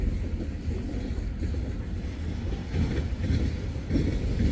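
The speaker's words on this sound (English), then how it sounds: "train's still coming way down there" A long Wheeling & Lake Erie freight train hauling petroleum cars rumbles past at a steady volume, a continuous low roar with faint wheel clatter and no talking.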